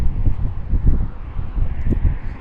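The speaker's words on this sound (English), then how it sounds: "It's very windy too" Strong wind gusts outdoors, buffeting the microphone in low, uneven rumbling surges that rise and fall throughout with no other clear sounds.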